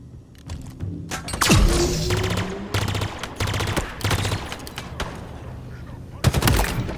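Bursts of pulse carbine fire from Halo Infinite aimed at a brute, loud rapid volleys repeating in several separated strings with short pauses, alongside impact thuds and in-game effects.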